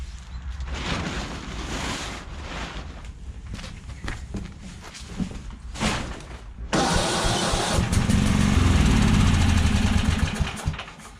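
A four-stroke engine running close by, a steady rumbling idle that grows louder and denser as it revs up partway through, with some shuffling and handling noise before it.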